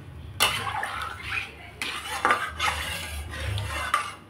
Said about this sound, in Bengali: এখন দিয়ে দিচ্ছি পরিমাণ মতো জল।